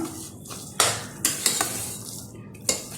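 Scraping and clattering of a spoon stirring thick cooked rice for sweet pongal in a pot, with a few sharper knocks against the metal rim, close by.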